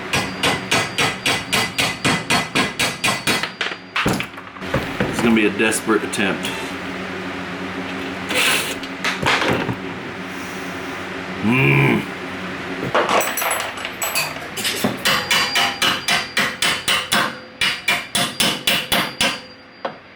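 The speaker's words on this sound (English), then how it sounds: "I'm using a pair of channel locks and a hammer." A hammer, used together with channel locks, delivers rapid runs of sharp, ringing metallic strikes in regular bursts with brief pauses between them, close by, and someone speaks a short line in the middle.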